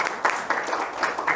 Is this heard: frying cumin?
no